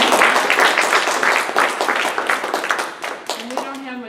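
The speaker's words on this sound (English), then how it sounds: "Just give them a round of applause for heaven's sake." Audience applause at a stormwater meeting, dense clapping at close range that thins out near the end as a voice begins over it.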